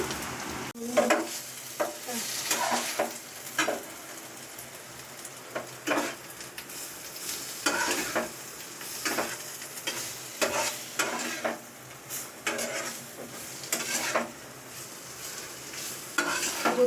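Boiled potatoes are stirred in a pan with tempering, turmeric, red chilli powder, salt and sugar. A soft sizzle runs underneath, broken by repeated scraping strokes of a spoon against the pan at an uneven pace, close and moderately loud.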